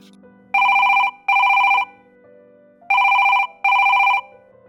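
A telephone ringing tone sounds during a call in a Gujarati comedy ad: four even electronic bursts in two pairs, with a short pause between the bursts of each pair and a longer gap between the pairs. The tone is loud and clear and there is no talk.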